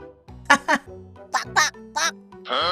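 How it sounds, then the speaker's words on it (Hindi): A series of nasal cartoon duck quacks, about six short squawks in quick succession, loud and close, ending in a longer raspy honk. "हंसी अब बत्तख जैसी क्वैक क्वैक होगी"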